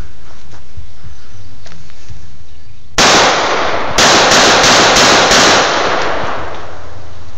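Gunshots ring out at a shooting range: one sharp, loud crack after a quiet stretch, then a quick run of about five more shots, each cutting off abruptly.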